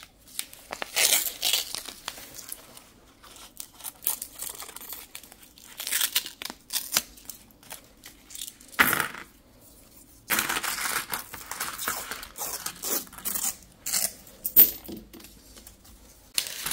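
Paper sheets being cut by hand during home meal prep, with bursts of crisp snipping and rustling that come and go irregularly, moderately close, with quiet pauses between.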